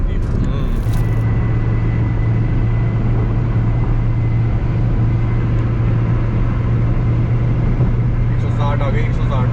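A Ford Figo speeds along the Yamuna Expressway at around 120 to 160 km/h, with loud, steady road and wind roar and a constant engine drone filling the cabin throughout.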